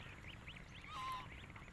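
Ducks quack faintly at night: a few soft, nasal calls repeat over a quiet background hum, with no voices.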